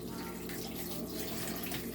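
Water running steadily from a tap or being poured into a pot for chicken curry made with Golden Curry roux, a continuous close, even rush with no talk.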